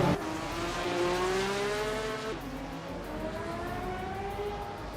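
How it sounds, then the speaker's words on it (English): A 1982 Domar C82 race car in a racing video game drones steadily at mid distance, its engine pitch climbing through gears with a brief shift, and other cars' engines humming underneath. "Maya is driving a 1982 Domar C82, which is holding steady in the middle of the pack."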